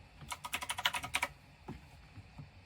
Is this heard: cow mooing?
no